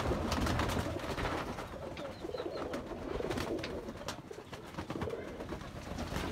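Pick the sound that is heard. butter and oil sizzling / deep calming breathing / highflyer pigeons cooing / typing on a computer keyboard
highflyer pigeons cooing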